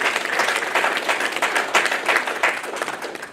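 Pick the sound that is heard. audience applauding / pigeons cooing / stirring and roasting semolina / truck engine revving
audience applauding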